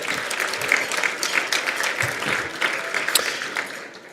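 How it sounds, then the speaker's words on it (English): Gala audience at an ALS foundation benefit claps steadily, a dense and even patter of many hands filling the room for several seconds. "give her applause"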